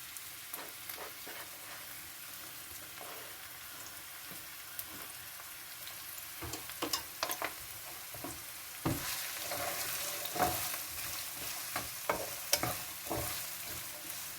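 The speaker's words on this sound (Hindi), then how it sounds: "हमने अपना जो प्याज चॉप किया था वो शामिल करते हैं अपने ऑयल के अंदर" Chopped onion sizzles in hot oil over high flame, a steady crackling fry broken by repeated scrapes and knocks of a stirring spoon against the pan, close and moderately quiet.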